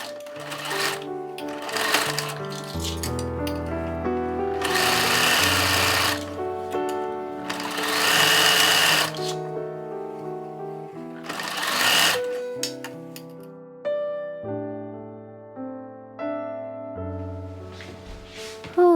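Sewing machine stitching sleeves onto a family's matching cruise-trip clothes, running in bursts of loud rapid whirring with short pauses between seams, close up and without speech.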